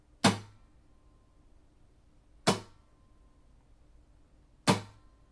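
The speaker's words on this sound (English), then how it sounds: "just give it a nice solid downstroke, and you should get a real percussive sound." Three sharp, muted percussive downstrokes strummed across acoustic guitar strings, each a quick dry scratch about two seconds apart with a short decay, heard up close and alone.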